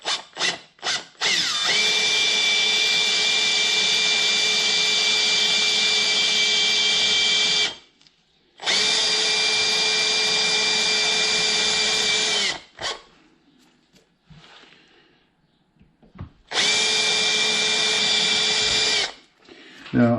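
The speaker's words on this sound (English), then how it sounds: "I think we just need to drill these out and just see what happens." A 5mm drill bores out rivets on a Rover P4 quarter light vent: three long, loud, steady high-pitched whining bursts of several seconds each, separated by short pauses with faint handling clatter.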